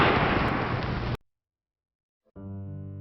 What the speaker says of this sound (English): The video shakes, and then, in just a few seconds, gunshots.